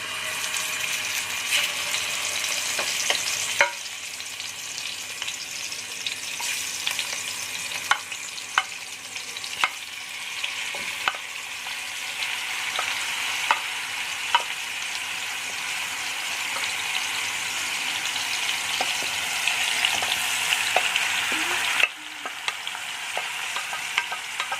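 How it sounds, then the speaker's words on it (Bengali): Marinated chicken frying in hot ghee over a medium flame, a steady sizzle close by with frequent sharp clicks and scrapes as it is stirred, continuing at an even level for a long stretch. "ঘিটা একটু গরম হলে আমি ম্যারিনেটেড চিকেনটা এখানে মিশিয়ে দেব।"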